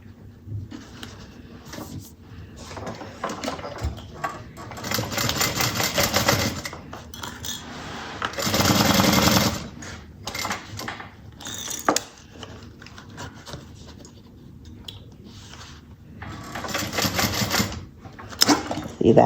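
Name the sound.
sewing machine sewing down the side of a bag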